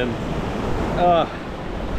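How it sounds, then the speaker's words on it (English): Ocean waves wash onto a beach at Ahangama, Sri Lanka, a steady broadband surf rumble with wind noise, while a voice briefly speaks over it. "Right now I think the waves are a little bit bigger than they usually are"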